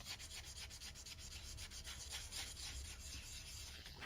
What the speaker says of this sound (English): sand the entire object in a swirling motion